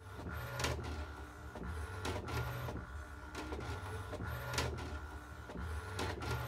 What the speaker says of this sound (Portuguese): a impressora já está imprimindo o molde, que é uma bandeirola